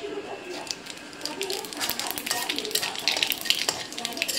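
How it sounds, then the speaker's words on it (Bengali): Dried red chili and black cumin (kalo jeera) hit hot oil in a home kitchen pan, giving a steady, close crackling sizzle with light utensil clinks and stirring throughout. "গরম হয়ে গেছে, দিয়ে দেব একটা শুকনো লঙ্কা, আর দিয়ে দেবো হলো কালো জিরা"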